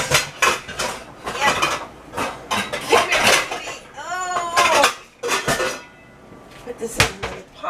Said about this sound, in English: I'm going to go ahead and put this in another pot.